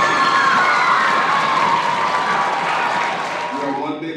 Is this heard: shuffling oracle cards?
no